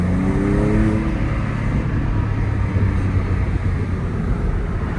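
Inside the cabin of a Porsche 997 Cabriolet on the move, a steady low engine drone and road rumble fill the space, loud and constant, with a brief rising engine tone near the start and no talking.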